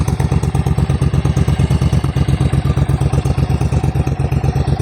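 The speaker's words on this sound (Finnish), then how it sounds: "Tässä on sitten sellainen intruderi, että ei tarvitse mitään muuta kuin ajaa." A lowered, otherwise original Suzuki Intruder motorcycle idling, its engine giving a steady, loud, evenly pulsing thump with no voices over it.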